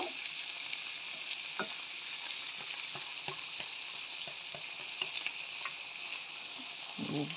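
Egg fries in a pan for apple fried rice, a dense steady sizzle heard up close with scattered light taps and scrapes from stirring and a louder clatter near the end, with no voice.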